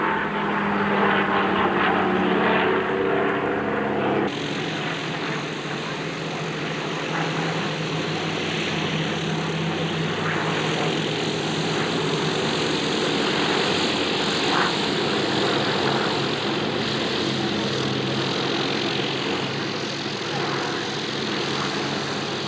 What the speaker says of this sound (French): il faut écouter le bruit de ces deux avions